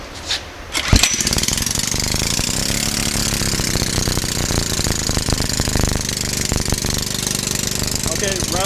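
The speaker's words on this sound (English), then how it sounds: "This is just a 5 horsepower John Deere engine." A small 5 horsepower John Deere engine running on hydrogen starts with a sharp crack, then settles into a loud, fast, steady chugging close by, with faint voices in the background near the end.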